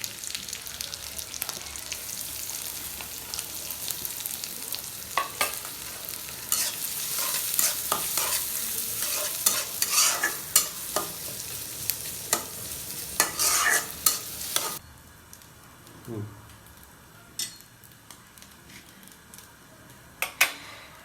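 Green chillies and chopped onion hit hot oil and are stirred, giving a busy crackling sizzle dotted with spatula clicks and scrapes, then a quieter simmer with occasional taps after about fifteen seconds.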